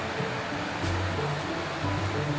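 A mountain river near the source of the Shimanto in Kochi rushes steadily below a wooden deck at a forest hot-spring inn, a continuous broad watery roar at moderate distance.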